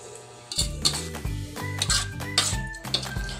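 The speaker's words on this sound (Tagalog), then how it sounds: "kailangan ko siyang haluin ng haluin para magpantay naman yung pagkakaluto ng gulay" Pakbet vegetables and shrimp being stirred in a cooking pot, with repeated clanks and scrapes of a utensil against the metal pot in an uneven rhythm, close and fairly loud, with no talking.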